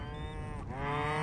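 Cow mooing in the video game Hytale, a single long, loud, low moo that bends downward and then rises again, heard alone without any talk.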